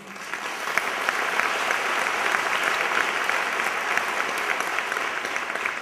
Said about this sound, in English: So one big applause for brave Iranian movement.